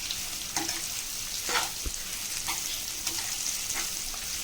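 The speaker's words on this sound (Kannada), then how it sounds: "ಈಗ ಇದು ಚೆನ್ನಾಗಿ ಫ್ರೈ ಮಾಡ್ಕೋಬೇಕು." Bitter gourd slices fry in oil in a pan with a constant bright sizzle, broken by a few soft knocks as the pieces are turned, close up and with no voices.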